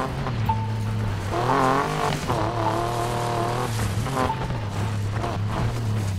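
A Volkswagen Beetle in the Need for Speed Payback video game revving and racing, its engine note climbing and falling in loud continuous sweeps as it shifts gears.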